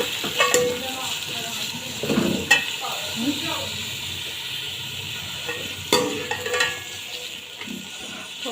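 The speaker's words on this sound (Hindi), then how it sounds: "इसमें मैं सबसे पहले शिमला मिर्च मैंने ऐसे चॉप कर लिए। इनको मैं फ्राई करूँगी" Chopped capsicum (shimla mirch) frying in hot oil, a steady sizzle with bursts of stirring scrapes in a pan; a voice is briefly audible over the cooking noise.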